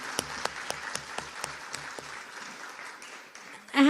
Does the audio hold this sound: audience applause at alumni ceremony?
yes